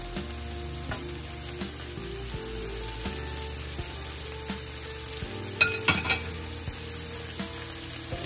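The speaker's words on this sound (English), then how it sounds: "So we're gonna fry our shrimp for about 1 to 2 minutes." Shrimp sizzles steadily in a hot frying pan, a loud continuous crackle with occasional stirring scrapes and a few louder clatters near the end, with no voices.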